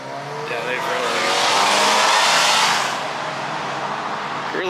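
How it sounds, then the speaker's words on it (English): Car traffic roars along Grand Avenue in Glendale, a loud, close stream of passing vehicles that swells to a peak and then eases off slightly. "Sorry, it's going to be noisy here. Grand Avenue here."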